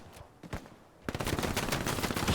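Machine gun fire in the video game Hell Let Loose, a few scattered shots followed by a loud sustained burst of rapid automatic fire that dominates the mix.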